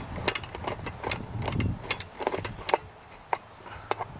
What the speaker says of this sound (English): We'll now place them in the holes here and proceed to firmly tighten them down.